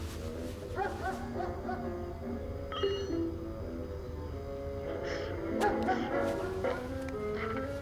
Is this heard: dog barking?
yes